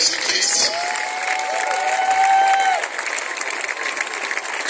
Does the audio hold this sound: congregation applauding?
yes